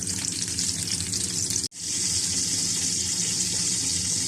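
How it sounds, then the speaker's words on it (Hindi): Stuffed brinjals (eggplants) fry in a covered pan with a steady, dense sizzle, broken by one brief dropout partway through, then resuming at a loud, continuous hiss with no voices. "देखिए बैंगन कितने अच्छे से फ्राई हो रहे हैं"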